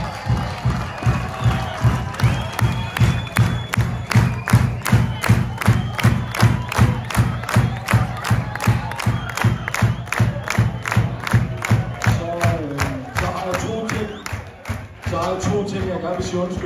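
Arena crowd at a Danish handball championship celebration for GOG claps in a fast, loud, rhythmic unison beat, with cheering and shouting rising over it, close and sustained throughout.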